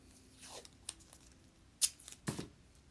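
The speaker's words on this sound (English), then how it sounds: "And then I tape that line drawing in place." Tape is pulled from the roll and torn, with short rips and crinkles as a paper line drawing is fixed onto a painting surface, quiet and close, with long pauses between sounds.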